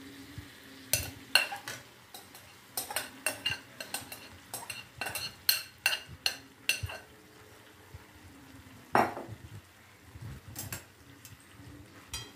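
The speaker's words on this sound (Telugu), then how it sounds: "మీడియం ఫ్లేమ్ పెట్టుకొని మనం ఆల్రెడీ ఉడికించుకున్న అన్నాన్ని కలుపుతున్నాం." Metal spoon scraping and tapping against a pan while cooked rice is stirred over a medium flame for paneer rice, a quiet sizzle underneath and irregular clinks close by, with no voices.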